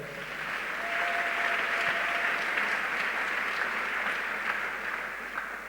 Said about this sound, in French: Acclamons le roi des rois.